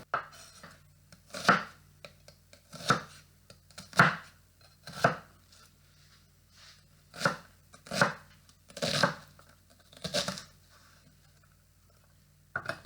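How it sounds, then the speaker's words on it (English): A knife chops an onion into small pieces on a board: roughly ten crisp, separate thwacks at a steady, unhurried pace, close and clear against a quiet kitchen, with nobody talking. "I'm going to cut this into pretty small pieces because I am making a very quick marinara"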